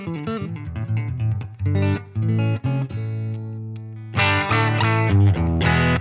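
An electric guitar played through a vintage EHX Poly Phase pedal into a Fender Deluxe Reverb amp with a little reverb: swirling, phased chords and single notes ring out, then a brighter, louder strummed passage ends the phrase. There are no voices.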